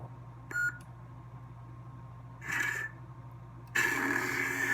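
A custom MHS lightsaber sound font powers up with a short electronic chirp and a buzzing swell, followed by a louder crackling hum that carries through to the end.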